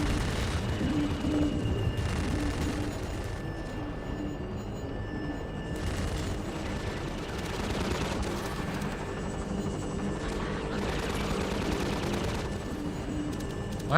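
Autocannon fire and combine soldiers fighting in the Half-Life 2 video game make a dense, continuous barrage of rumbling shots and battle noise that stays loud throughout.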